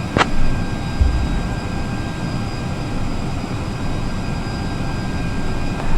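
Airbus A321neo in Microsoft Flight Simulator 2024 during pushback and engine start, a steady loud whining engine drone with a continuous hum and a brief knock at the start, no talk.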